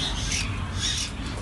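A young magpie robin (kacer) in a bird shop gives harsh squawking calls, loud and close, in a couple of rough bursts with no other sound around them.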